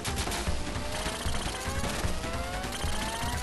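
Gunfire from a boss in the Sega Genesis run-and-gun game Contra Hard Corps, with dense, continuous game sound effects and bursts of shots layered over busy music, loud throughout with no talking.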